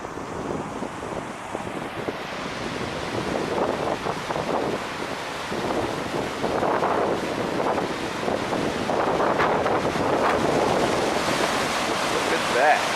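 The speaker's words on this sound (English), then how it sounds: "And you can hear the Russian River right next to me." The Russian River flowing right beside a pocket park, a loud continuous rush of water mixed with gusting wind buffeting the microphone, building slightly over about thirteen seconds with no talking.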